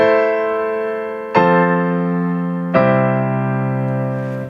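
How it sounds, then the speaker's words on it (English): Three sustained piano chords are struck one after another, each ringing clearly and decaying slowly, played alone with no voice. "you'll be able to write chord progressions that sound like this"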